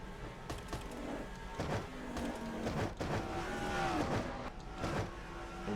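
Stock cars from a simulated race roar steadily around an oval in the AC Delco 400, engines droning with rising and falling pitch as two cars battle side by side for position, a continuous close engine wash with no speech.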